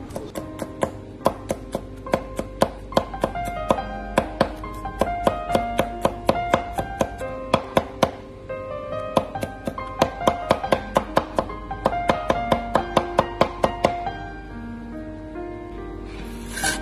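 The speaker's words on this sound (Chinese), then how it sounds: "拍碎之后再改刀将大蒜切成蒜末" A knife mincing crushed garlic cloves on a cutting board, a steady stream of sharp, close, rhythmic chops continuing for a long stretch with only brief pauses.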